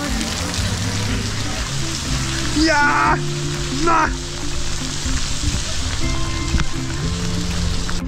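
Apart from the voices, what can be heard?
heavy rain falling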